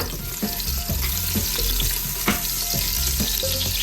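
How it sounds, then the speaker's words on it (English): Onions saute in a hot pot for chicken foot soup, with a steady loud sizzle of frying and repeated knocks and scrapes of a stirring utensil against the pot. "so we're gonna saute the onions a little bit."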